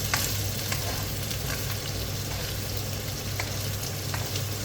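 Salty chicken stir-fried in a pan: a steady close-up sizzle and crackle of frying, with occasional sharp ticks and scrapes from stirring and no talk.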